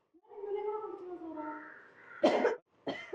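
A drawn-out vocal groan gives way to two sharp, harsh coughs close by.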